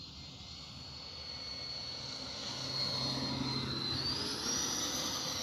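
A Freewing A-4 Skyhawk 80mm electric RC jet on a landing pass, its ducted-fan whine rising and shifting in pitch as it approaches and flies by at moderate distance, fairly faint against outdoor background.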